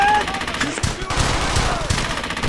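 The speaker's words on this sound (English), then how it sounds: "Fire on that MG!" Rapid machine-gun bursts rattle loud and close in the World War II shooter Brothers in Arms: Hell's Highway, with voices mixed into the chaotic firefight.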